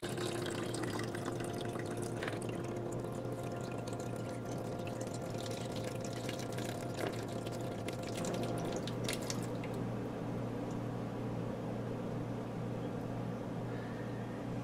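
Steady running water trickles and splashes into a countertop ice maker as it fills, with a low mechanical hum underneath throughout.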